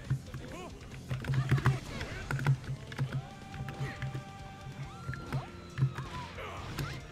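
Keyboard keys clatter rapidly and unevenly while a player practices Guilty Gear Strive as Leo Whitefang, light clicks bunched in bursts among fighting-game sound effects and someone talking throughout.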